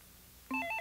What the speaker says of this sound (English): Again, the ringing.